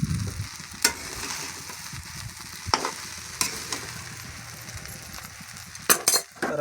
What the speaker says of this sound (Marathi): आता बघा साबुदाणा परतवण्याचं काम चालू आहे